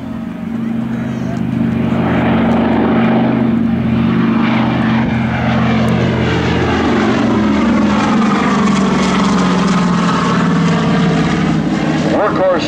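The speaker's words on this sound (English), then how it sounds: "We'll tell you more about the history of this C-47 as we listen to it come by." Douglas C-47 Skytrain 'Yankee Doodle Dandy', a World War II propeller transport plane, roars past close and loud at an air show, its engine pitch sliding downward as it passes and fades.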